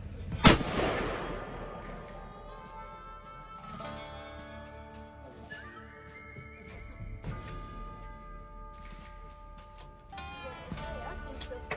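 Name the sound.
gunshots while sighting in rifles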